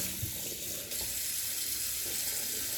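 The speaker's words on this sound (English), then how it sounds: "you wash the inside of this good with hot soapy water" Hot water runs steadily from a sink tap while Instant Pot parts are washed in soapy water, a continuous close splashing hiss with no talking.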